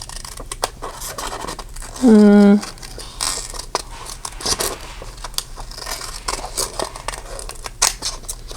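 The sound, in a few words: scissors cutting paper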